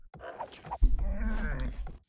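A sheep bleating in the Age of Empires video game, a single wavering bleat in two parts, close and clear with nothing else behind it.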